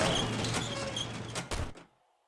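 A motion-sensor garage door in 7 Days to Die grinds open with a dense, even mechanical rumble, then stops with a short thud and fades into near silence.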